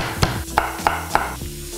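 Onions frying in toasted sesame oil for an Asian-style cauliflower soup with coconut milk, a steady close sizzle broken by four soft rhythmic stirring clacks.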